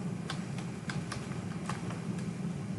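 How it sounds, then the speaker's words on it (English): Computer keyboard typing: a short run of light, evenly spaced key clicks over a steady low hum, close and clear, with no talking. "click Cortana and type OneDrive"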